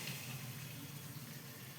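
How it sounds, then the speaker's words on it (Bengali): A spice-grinding bowl is rinsed under a running tap, giving a steady, close, fairly quiet wash of flowing water that continues without pause. "আর এই যে মশলা করার বাটিটা ধুয়ে দিয়ে দিচ্ছি।"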